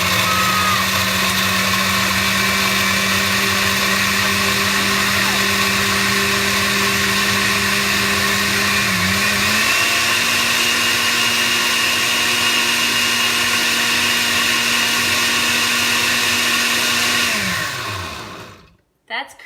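A blender whirs loudly and steadily as it purees cashew cream for a white lasagna sauce, its motor pitch dipping briefly midway, then winding down and stopping at the end.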